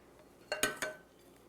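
A spoon taps a pan three times in quick succession while tomato sauce is ladled onto stuffed calamari, close and fairly soft, with a quiet background.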